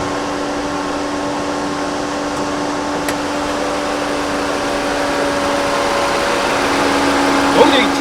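A Mercedes-Benz A-Class sedan engine idles nearby with the air conditioning on, a steady, even low hum and a faint whirring that continues unchanged throughout.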